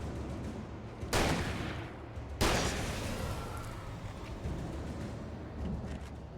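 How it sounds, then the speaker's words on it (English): Two loud shotgun blasts boom in quick succession in the Alan Wake game, each a sharp wide burst with a rolling tail, followed by quieter rumbling. "the shotguns are just so satisfying to use"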